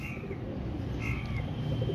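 Royal Teddy pigeons, young females in a loft, coo softly and steadily over a constant low background murmur, with no one talking.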